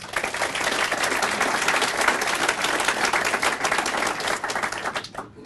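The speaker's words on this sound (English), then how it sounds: "Let's start off by giving her a round of applause." An audience applauds a distinguished teacher at the 2017 Crystal Apple Awards ceremony, a dense, steady wash of many hands clapping throughout that cuts off abruptly near the end.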